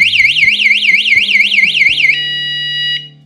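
Antusi Cicada A6 wireless bike anti-theft alarm sounding loud and close, a rapidly warbling electronic siren that switches to a steady piercing tone before cutting off, with no talk.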